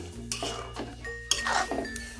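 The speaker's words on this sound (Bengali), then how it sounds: "তো দেখুন নাড়িয়ে চাড়িয়ে খুব ভালোভাবে মিশিয়ে নিচ্ছি।" A raw mango sandesh mixture stirred and mixed in a kadai, with a spoon scraping and clinking against the pan in quick close strokes over a faint sizzle.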